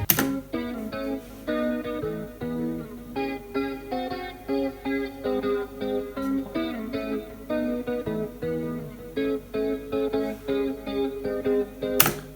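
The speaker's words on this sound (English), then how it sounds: "it's really carried by the guitar riff" A repeating guitar riff plays on its own, a choppy rhythmic pattern of short, punchy notes cycling steadily without any voices.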